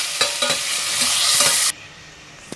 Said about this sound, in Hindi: अब इसमें चिकन डालेंगे। अब इसको थोड़ा हल्का हल्का भूनेंगे।